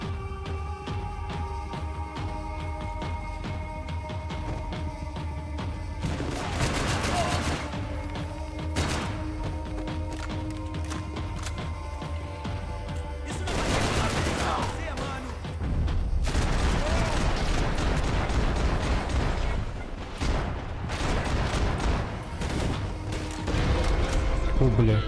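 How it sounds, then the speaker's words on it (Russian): Sustained bursts of rapid machine gun fire in the video game Max Payne 3, loud and dense with booming impacts and thuds, continuing under intermittent voice chatter. "Пулемет, да?"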